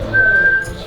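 A person whistles one clear, sustained note that holds steady for under a second, close and fairly loud, with no talking over it.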